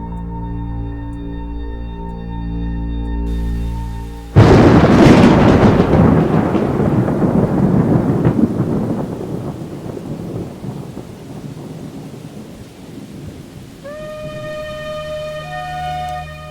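A loud thunderclap cracks suddenly and rolls off into steady heavy rain of a rainstorm, the rumble fading slowly under continuous downpour, with sustained tonal siren-like music before and after.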